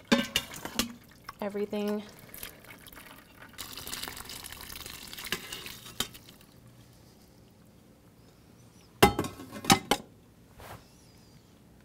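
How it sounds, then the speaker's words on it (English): Smoked pork stock pours through a fine mesh strainer in bursts of splashing and trickling liquid with some clinks of cookware. A person speaks briefly in between. "we're just using a fine mesh strainer here to catch"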